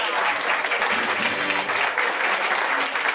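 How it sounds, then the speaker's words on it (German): Steady, dense audience applause fills the hall at a carnival club seniors' event, loud and continuous throughout with no speech over it. "Die hat auch einen Applaus verdient."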